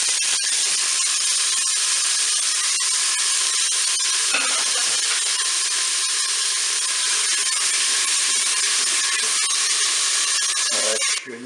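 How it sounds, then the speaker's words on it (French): Onions sizzle steadily in hot oil inside a Cookeo multicooker pot, a loud, continuous bright hiss with faint crackles and a couple of clanks near the end, no talking. "je vais mettre bien mes oignons dans la cuve"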